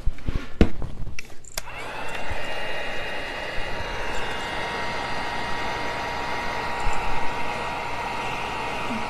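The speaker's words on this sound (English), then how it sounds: "I might get out my dryer and dry a little bit." A hair dryer starts up after a few handling clicks and keeps blowing with a steady, loud whirring roar up close.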